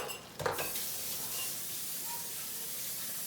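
Egg mixture poured into a hot pan for breakfast, a brief splash followed by a steady, soft sizzle and hiss close by.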